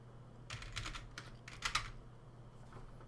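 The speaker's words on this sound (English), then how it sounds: "type in something random" Keystrokes on a computer keyboard while entering a password into a web login form, a few close, quick bursts of clicks with short pauses between them, fairly quiet.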